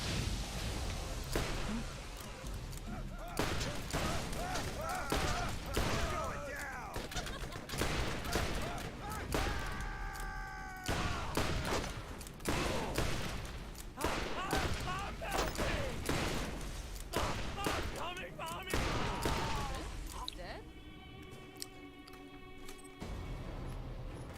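Explosions and rapid gunfire from a Borderlands 1 firefight, with Lilith's side throwing grenades, dense and loud throughout, punctuated by sharp blasts and bursts, with game music tones and effects rising near the end and a voice talking now and then.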